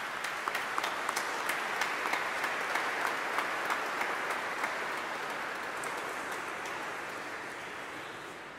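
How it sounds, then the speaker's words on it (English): A congregation applauds inside a large stone cathedral during an anniversary Mass, a dense, reverberant wash of clapping with a few sharper claps standing out early, steady throughout and slowly fading toward the end. "Let's give them an applause."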